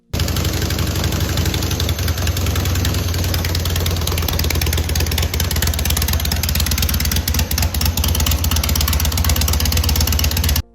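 A freshly built custom Harley-Davidson Sportster motorcycle engine runs close and loud at a steady idle, with a constant lumpy, rattling V-twin throb that lasts the whole stretch and cuts off abruptly.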